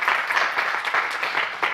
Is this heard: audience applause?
yes